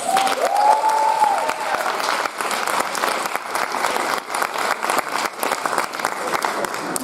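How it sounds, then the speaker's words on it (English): An audience at a closing assembly breaks into sustained applause, many hands clapping together in a loud, dense wash that keeps going throughout, with a brief tonal whine near the start. "I would ask you to give a round of applause to Ellen and Margarita"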